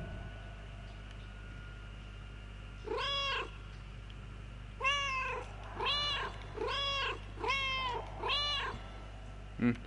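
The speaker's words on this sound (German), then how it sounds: "Mein Kater schmollt, glaube ich." A tomcat meows over steady background hum: one drawn-out meow, then after a pause four more in an evenly spaced run about a second apart, close and clear with no talking.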